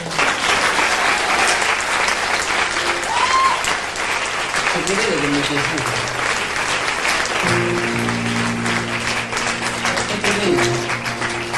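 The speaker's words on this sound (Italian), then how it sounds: "Allora, ma un applauso lo fate?" A theatre audience at a live show in Rome keeps up continuous, dense applause for the whole stretch. Someone speaks and a few sustained tones sound over the clapping.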